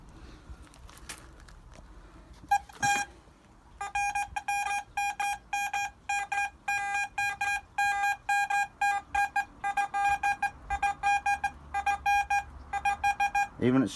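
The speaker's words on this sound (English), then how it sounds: "Even at speed, it's giving you an indication something's there, so you get the beep and you'll go." A Deeptech Vista X metal detector beeps over a buried target, first a few scattered blips, then a rapid, regular stream of sharp electronic tones that continues to the end.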